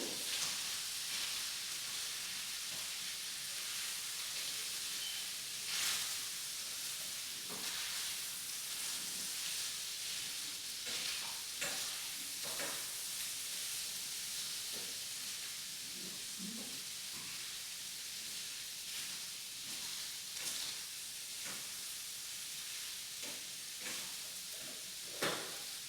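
Chicken sizzles gently in bacon grease with Old Bay seasoning, a faint, steady hiss with soft crackles running throughout, no talking.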